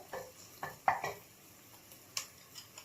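A utensil scrapes and knocks a few times in a pot where onions sautéed in four spoons of oil are stirred with tomato paste, with soft sizzling underneath. The clinks are sparse and quiet.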